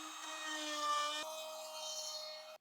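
A power tool rounds over the back edge of a wooden piece in a woodworking shop, a steady high whine that shifts pitch midway and then cuts off abruptly, heard alone and fairly close.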